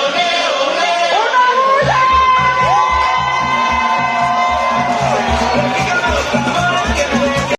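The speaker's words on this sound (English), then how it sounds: "this crowd was going absolutely insane" A big concert crowd at an EDM show cheers and screams wildly, with loud sustained whoops and shouts rising over thumping bass music throughout.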